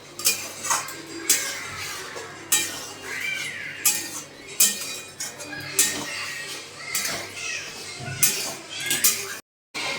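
A metal lid clanks onto a pot of mutton in a home kitchen, with several sharp, irregular clatters of metal on metal spread across the clip.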